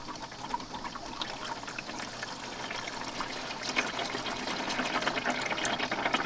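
Engine oil drains from a Subaru BRZ during an oil change, a faint steady trickle and patter of liquid that holds on continuously for several seconds with no voices.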